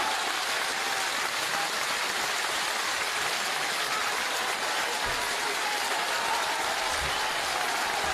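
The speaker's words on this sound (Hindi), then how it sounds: "इतनी ताली होनी चाहिए" Sustained crowd clapping at a political rally in Nayagaon, Gwalior, a continuous dense wash of hands that holds steady and loud throughout, with a couple of low thumps near the end.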